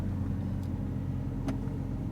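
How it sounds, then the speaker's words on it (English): Steady low rumble of a Lamborghini V12 car engine in the background, continuous and fairly faint, with a couple of brief higher clicks over it. "You can really hear the V12 engine revving there in the back."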